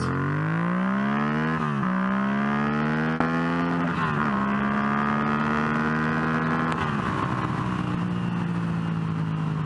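A Yamaha MT-07 motorcycle fitted with a DNA air filter accelerates hard on a cold, wet day. The loud engine drone climbs steadily in pitch through several upshifts and stays close throughout, with no voices.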